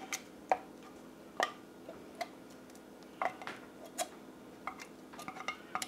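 Cans of Campbell's cream of celery soup being emptied, with scattered metallic taps, clinks and scrapes against the cans, fairly close and quiet, with no talking.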